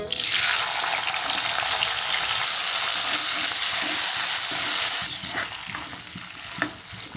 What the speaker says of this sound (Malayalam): ഒരാൾ പാലിളക്കുന്നു, സുമതി പാൽ തിളപ്പിക്കുന്നു